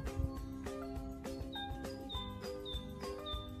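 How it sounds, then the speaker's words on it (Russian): Birds sing in a sunny forest, giving repeated short high chirps over a dense, steady wash of background sound. "Птички поют, звуки леса."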